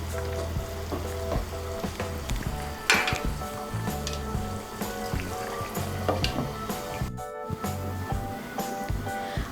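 Katla fish, bori, potato and cauliflower curry being stirred in a pan, with a steady sizzle and repeated scraping strokes running throughout, fairly loud and close, with background tones underneath.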